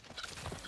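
Horse hooves clip-clopping as two riders approach on horseback, faint and somewhat distant, a short run of soft irregular thuds over quiet background.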